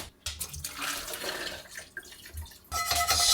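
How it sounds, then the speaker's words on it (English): Boiled water poured out of a cooking pan splashes and gurgles in uneven bursts, a close, fairly quiet sloshing with a heavier rush of liquid at the end. "just dump that water out."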